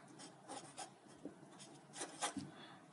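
A marker scratches across a board while a math slope is worked out, faint, close rubbing strokes in short irregular bursts with brief pauses between them.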